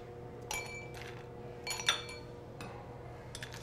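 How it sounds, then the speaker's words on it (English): Ice cubes are dropped into glasses holding cinnamon sticks. A few separate bright clinks and rattles ring out close by over a low background hum. "We're gonna throw some ice cubes in there."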